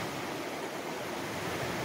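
Water pours steadily at Trowbridge Falls near Thunder Bay, a dense, even rushing roar that holds without a break.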